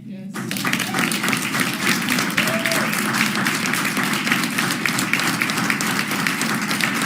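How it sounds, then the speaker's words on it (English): Sustained audience applause at a live event in West Virginia, a loud, even wash of clapping that holds steady from start to finish, with a voice faintly audible beneath it. "We need to applaud them"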